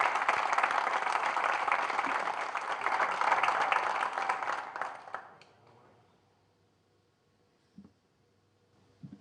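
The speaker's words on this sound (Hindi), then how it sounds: "हमारे बीच जोरदार तालियों के साथ स्वागत करिएगा।" An audience applauds loudly to welcome a poet at an Independence Day poetry gathering. The dense clapping lasts about five seconds, then fades into near silence with a few faint knocks.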